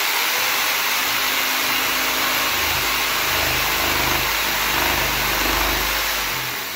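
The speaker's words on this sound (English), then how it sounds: "then you rock the jigsaw back where it's not seen on the back of the board" A jigsaw cuts painted baseboard, coping the profile, with a loud, continuous motor whine and rough buzzing blade chatter throughout, slightly easing near the end.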